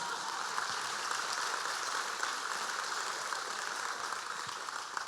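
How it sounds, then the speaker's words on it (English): Event audience at an annual awards breakfast giving a steady round of applause, a faint, even wash of clapping throughout. "Please give them all a round of applause."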